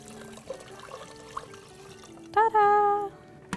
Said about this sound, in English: You pick the jug, you try not to spill the water,